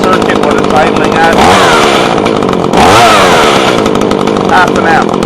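A GoPed fitted with a small chainsaw-type two-stroke motor idles loudly and steadily up close, its buzzing drone rising briefly in a couple of short revs before settling back.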